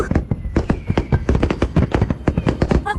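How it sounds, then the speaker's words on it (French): Rapid bursts of fireworks or firecrackers pop and thud close by in a dense, uneven crackling sequence. "Wow, les feux d'artifice sont trop beaux!"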